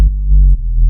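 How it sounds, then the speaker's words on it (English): Deep sub bass synth from a progressive house track, a sustained low tone with a short break and slight retrigger around the middle, loud and alone with no voices. "And our sub bass sounds like this"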